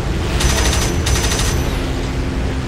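Cannon fire from a Ta-152 fighter in the video game Birds of Steel comes in two rapid, loud bursts over a constant engine roar.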